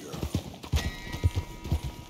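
Horse hooves clip-clop in the Red Dead Redemption 2 video game, a steady, fairly close rhythm of four to five paired hoof strikes under a faint background, with someone talking quietly over it.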